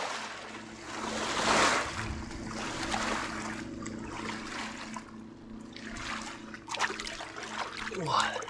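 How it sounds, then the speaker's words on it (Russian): Small waves from a passing boat lap and slosh against the bank of the Oka river at a fishing spot, a steady watery wash with brief splashes, under faint outdoor background noise. "Фига он тут нагнал волн."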